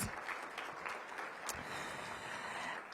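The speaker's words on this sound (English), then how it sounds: "Let's give her a big round of applause." Faint, even applause from an audience at a mayoral budget briefing, honouring a council member, runs continuously at a distance.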